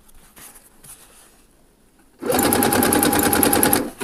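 A sewing machine runs in a fast, steady burst, stitching elastic onto a swimsuit; a quiet stretch of handling comes before the loud, even whirring starts and holds to the end.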